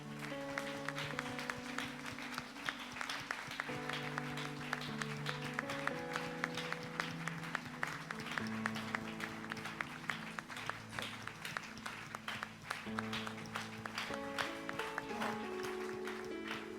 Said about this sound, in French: Applaudissez vous-même.